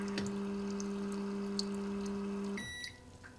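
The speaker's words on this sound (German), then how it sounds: "Eine weitere Taste auf der Fernbedienung startet die automatische Düsenreinigung" A Toto Washlet RX/SX toilet seat runs its automatic nozzle cleaning with electrolysed water: a steady electric hum with faint trickling holds for a few seconds, then cuts off and is followed by a couple of short, high electronic beeps.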